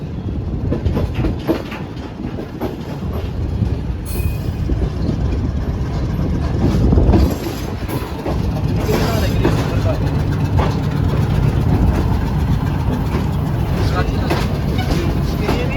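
A railway locomotive stands at a station platform on the Lahore to Karachi line, giving a loud, steady engine rumble and hum with background voices and occasional clanks.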